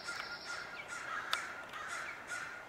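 A white-tailed kite calls to its mate outdoors with a series of short, faint, raspy calls spaced at a steady rhythm, heard from some distance with no talking.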